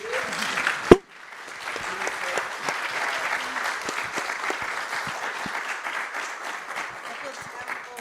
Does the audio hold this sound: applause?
yes